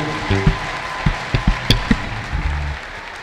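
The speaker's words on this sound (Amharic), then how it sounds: "እልልታ፣ ጭብጨባ ለኢየሱስ ክብር።" A church congregation claps and cheers in praise, with scattered claps and a few sharp bursts. Sustained tonal calls that could be ululation run underneath, moderately loud and close.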